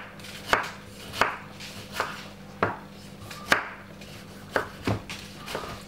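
A knife dicing a medium-sized tomato into small pieces on a cutting board: sharp, evenly spaced chops about every half second to second, close and clear, with no talk.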